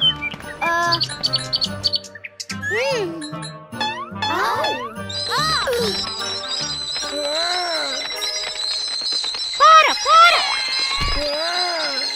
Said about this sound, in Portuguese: Puxa vida, além de não conseguir afugentar o pássaro, Pando também se machucou.